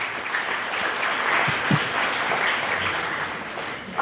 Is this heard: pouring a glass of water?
no